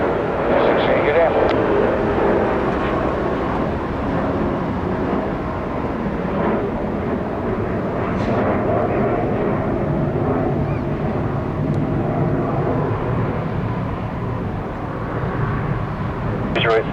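An airliner takes off from a runway at Detroit Metro Airport, a steady broad roar holding loud across the whole stretch, with voices faintly present beneath it.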